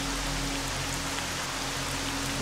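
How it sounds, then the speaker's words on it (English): Heavy rain pours steadily in the S.T.A.L.K.E.R. video game, a dense, even wash of rainfall hiss with a low rumble underneath, continuous and close, with no voices over it. "it's hard to hear over the rain"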